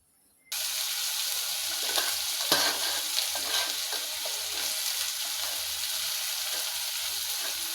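Bay leaf, cardamom and cinnamon hit hot oil with a sudden burst of sizzling that settles into a loud, continuous fry, with small crackles throughout.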